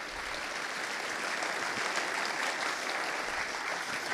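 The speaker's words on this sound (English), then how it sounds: "please join me in giving a huge round of applause to everybody working here at the theatre" A theatre audience at a live debate gives a sustained round of applause: dense, steady clapping from a large crowd that holds at an even level throughout, with no voices on top.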